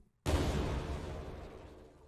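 An explosion in an Unreal Engine game bursts suddenly after a brief silence, a loud broadband blast that decays slowly into a fading rumble over about two seconds, heard alone.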